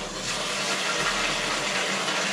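Water pours steadily into an ice bath tub, a continuous close rushing and splashing fill that holds at a constant level throughout with no talking.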